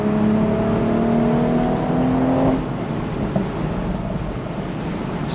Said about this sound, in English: But I do really like the sound coming out of the exhaust.